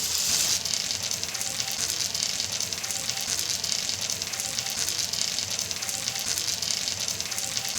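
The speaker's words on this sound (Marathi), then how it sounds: "तव्यावरती हलकंसं तेल आणि हे बटर घालून छानपैकी आपला सँडविच जे आहे ते आपण फ्राय करून घेऊयात" A sandwich fries in oil and butter on a hot tava griddle, giving a steady, even sizzle that holds without break from start to finish, with no voices.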